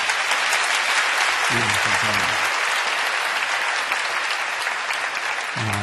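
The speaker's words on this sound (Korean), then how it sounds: "다시 한번 격려의 박수 한번 쳐주시면 감사하겠습니다." A church congregation gives sustained, loud applause for the Trinity choir, a dense, steady clatter of clapping filling the whole stretch, with a brief spoken word near the end.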